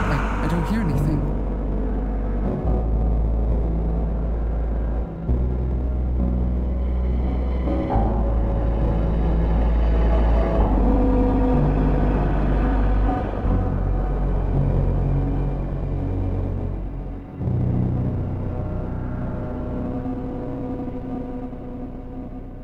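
Deep car engine rumble in a horror audio drama, a heavy low drone that swells and cuts out at moments, with voices and other sounds layered over it for the full length.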